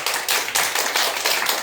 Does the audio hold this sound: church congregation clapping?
yes